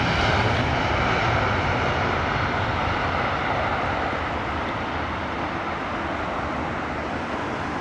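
Lufthansa airliner taking off at Heathrow, a steady, loud broadband jet roar that holds level throughout with no voices over it.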